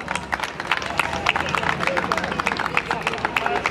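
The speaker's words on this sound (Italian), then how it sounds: "Un applauso!" Audience applause at a sports club presentation: a brief burst of many hands clapping in a fast, irregular patter, moderately loud and close, with faint crowd murmur underneath.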